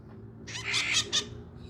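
A collared macaw calling, a few harsh, raspy squawks close by over a low background hum, with no speech.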